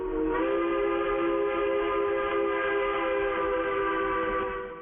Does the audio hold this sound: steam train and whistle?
yes